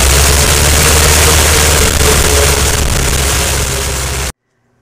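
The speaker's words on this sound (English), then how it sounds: "Engage the starter while at the same time adjusting the throttle until the engine starts up." An aircraft piston engine on a test stand runs loud and rough right after starting up, a dense continuous roar that cuts off abruptly just before the end.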